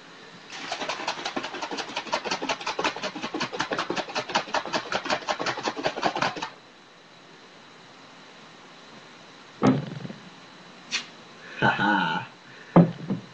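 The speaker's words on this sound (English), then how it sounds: "so I'm going to shake it up a little bit more." A stim pre-workout supplement container shaken hard: a fast, steady, rhythmic rattle lasting about six seconds, then quiet broken by a few separate knocks and short bursts.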